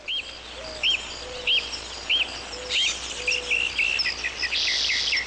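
Video game birds chirping in a regular series of short, high, repeated calls, fairly close, that grow busier and overlap toward the end over a low ambient hum.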